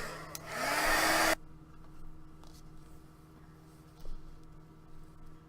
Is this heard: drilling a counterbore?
no